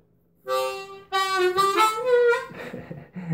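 A cheap harmonica in F plays a short bending riff, a few reedy held notes then a rougher, breathier phrase, up close and alone.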